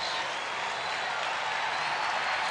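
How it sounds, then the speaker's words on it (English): Big crowd at a Detroit Tigers baseball game in the stadium, a broad steady roar of cheering and applause filling the clip with no pauses. "Crowd's starting to get into it."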